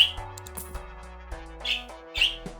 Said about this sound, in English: Go, excited birds!